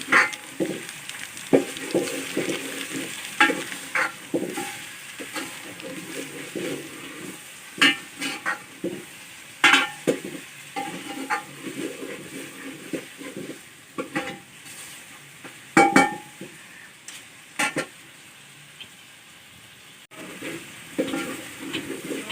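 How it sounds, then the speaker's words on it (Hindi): Chicken pieces fry in a pan with ginger paste, giving a steady sizzle broken by frequent stirring scrapes and clinks of a utensil against the pan, close and fairly loud, with no talking. "चिकन को अच्छी तरह से फ्राई कर लेंगे।"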